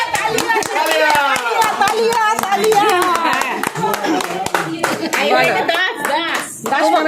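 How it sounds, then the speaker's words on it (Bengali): A family claps their hands in quick, uneven bursts of sharp slaps at close range, mixed with near-constant overlapping talk, including children's voices. "হাততালি দাও"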